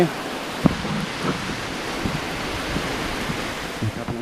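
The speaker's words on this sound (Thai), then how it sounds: "บรรยากาศฝนตกครับ" Steady outdoor rain hiss with broadband wash throughout, a faint voice murmuring underneath and one brief knock early on.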